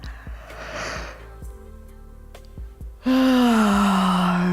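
A person takes a deep breath in through an open mouth during a shoulder-raising relaxation exercise, a soft airy inhale close by, followed by a sustained voiced tone.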